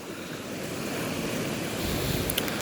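Water pouring over as a village lake overflows, a steady loud broadband rush of flowing water with wind buffeting the microphone, continuous throughout with no voices.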